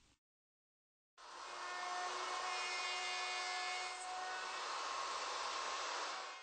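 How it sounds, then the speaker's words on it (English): A router fitted with a dovetail bit and template guide bush cuts through-dovetail tails in wood on a Leigh D4R Pro jig, starting abruptly after a brief quiet and then whining at a loud, steady pitch. "The included template guide bush and dovetail bit follow the parallel surfaces of the tail guides to form the tails."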